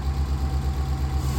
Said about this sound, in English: Let's see how it sounds. Pretty mellow at idle.